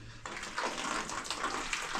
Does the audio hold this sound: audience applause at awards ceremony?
no